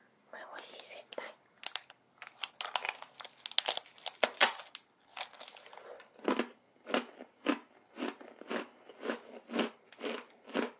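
Crunchy low-carb Muji snacks chewed up close for ASMR, with repeated crisp bites and crinkly crunches in a steady rhythm, busy at first and then evenly spaced; soft whispering is faintly present.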